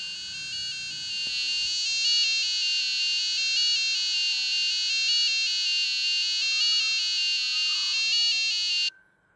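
A small buzzer on an STM32 board plays the Stranger Things melody as a bright, piercing electronic tone sequence, loud and steady for about nine seconds before it cuts off abruptly.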